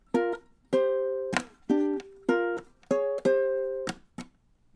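A ukulele picks a riff alone, a short phrase of about nine bright plucked notes and chords in an uneven rhythm, some notes ringing briefly before the next attack.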